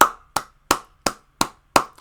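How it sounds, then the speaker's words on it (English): Six sharp hand claps in a slow, evenly spaced rhythm, loud and close, with no voices, a single person's mock round of applause. "round of applause"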